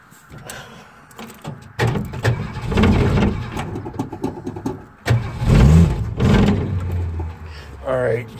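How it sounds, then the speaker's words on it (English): A 1961 Mercury Comet attempts a cold start, with clicks and starter cranking followed by the engine catching and running rough in uneven surges, close by, with talk over part of it. "let's try to get her started for a cold start, 61 Comet"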